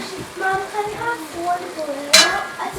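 Food stirred in a pan while cooking spicy loose meat for sandwiches, with soft scraping strokes over a light sizzle, then a sharp metallic clink near the end; close and fairly loud with no talk.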